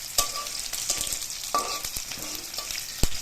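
Cabbage bhaji cooks in a frying pan with a low steady sizzle and several sharp knocks and scrapes of a spatula against the pan, close and fairly quiet with no voices.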